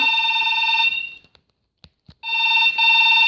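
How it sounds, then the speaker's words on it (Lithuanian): A mobile phone rings with an incoming call during Minecraft play, a loud close electronic ringtone that breaks off briefly with a few small clicks and then resumes. "Atsiprašau, man skambina."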